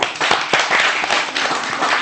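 Children clap in a TV morning-show studio, an uneven burst of scattered hand claps at moderate level, with a few sharper claps standing out over a busy room tone.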